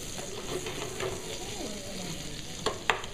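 Fish sizzles steadily in a hot pan after a squeeze of lemon, a soft continuous crackle with a couple of sharper pops near the end.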